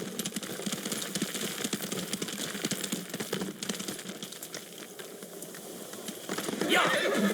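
Rapid hoofbeats of a galloping horse in the video game Ghost of Tsushima, with a neigh near the start and a louder whinny close by toward the end.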